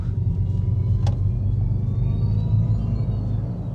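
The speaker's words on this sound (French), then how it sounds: "je pense que c'est le moment de s'amuser avec les bruits artificiels" A steady, low artificial engine drone from a Mercedes GLC electric SUV hums continuously inside the vehicle, with a brief faint click partway through and no change in pitch.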